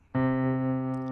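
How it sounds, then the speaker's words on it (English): A Yamaha CK keyboard sounds a layered pad and piano: a single chord starts abruptly and is held, clean and sustained, fading slightly, with no talking. "You can hear the pad in the background"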